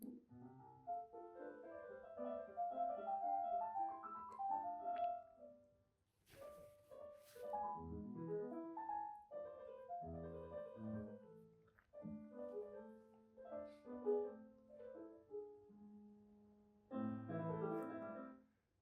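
Piano music continuing a prompted passage, generated by an AI model trained on expressive performances: melodic phrases and chords with varied dynamics, a brief pause near six seconds, then further phrases, played alone without talk.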